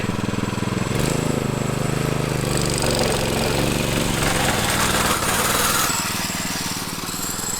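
A Corvette-engined five-speed go kart runs loud and close, its engine churning with a rough, rapid pulsing throughout and easing off slightly at the end.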